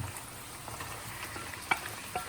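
Red, yellow and green peppers frying in a pan, a soft steady sizzle with a couple of faint clicks, quiet and close, no voices.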